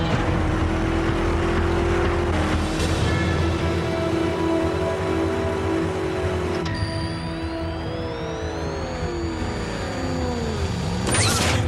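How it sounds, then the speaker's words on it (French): An engine hums steadily nearby, its pitch shifting and sliding higher near the end as it revs; no voices. "Je reconnaîtrai le son de ce moteur entre mille."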